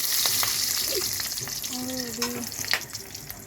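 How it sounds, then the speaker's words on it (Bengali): A ginger, garlic, onion and dried chili paste fries in a pan at home while a metal spatula stirs it, a steady sizzle broken by scraping strokes and brief clinks, with a faint voice in the background. "এরপরে আদা রসুন পেঁয়াজ শুকনো লঙ্কা যে পেস্টটা ছিল সেটা দিয়ে দিল, আর আমি সেটা খুন্তি দিয়ে নাড়াচাড়া করছিলাম"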